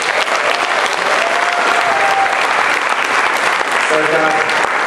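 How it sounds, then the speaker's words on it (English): An audience at a student orientation event claps loudly and continuously, a thick sustained round of applause with a few faint cheers mixed in. "give them a round of applause"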